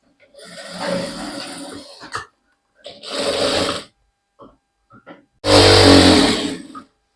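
A sewing machine stitches a sleeve joint on a garment, whirring close by in three separate runs, the last one the loudest.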